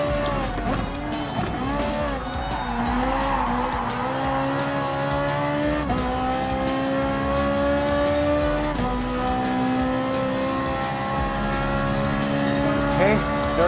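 A Ferrari 458 Italia GT3 races in Gran Turismo Sport, its engine droning steadily and shifting through rising and falling gear tones for the whole stretch, loud and continuous, with a voice talking over it.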